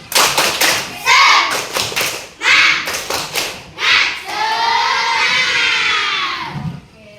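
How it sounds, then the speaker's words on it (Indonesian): A combined class of fourth and fifth graders does a rhythmic spirit clap, with close bursts of sharp claps and thumps in a patterned beat, then ends with a long, loud group shout from the children. "biar lebih semangat kita tepuk semangat dulu ya"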